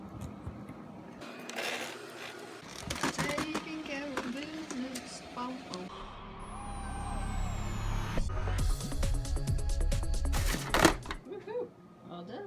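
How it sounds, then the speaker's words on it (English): A vacuum cleaner run in a basement guest room roars steadily for several seconds, its motor whine sliding as it runs, preceded by clunks and handling noise; a voice speaks briefly. "maybe should run the vacuum really quick"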